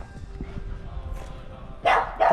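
Dogs bark aggressively outdoors near a seaside campsite on Sicily, two loud close barks arriving in quick succession after a stretch of murmuring background noise.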